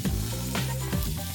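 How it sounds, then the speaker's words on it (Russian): Pork belly slices (samgyeopsal) sizzle in a hot frying pan for Korean barbecue at home, a steady loud crackle with a few sharper pops, with no talking. "Для этого включаем плиту и ждем, когда разогреется сковорода. Далее выкладываем грудинку на центр."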